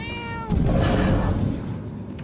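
A cat meows in the video game Murdered: Soul Suspect, one drawn-out, loud, close cry that rises and then fades over a low game background rumble.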